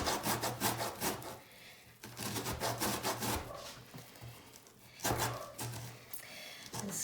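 An orange peel is scraped over a zester for a cornmeal cake, giving rhythmic close-up rasping strokes in uneven bursts with brief pauses between them.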